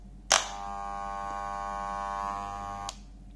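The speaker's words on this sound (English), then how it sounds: "So first of all, we will start with the clippers" Electric pet hair clippers switched on with a sharp click, running with a steady, close electric buzz and hum for about two and a half seconds, then clicked off.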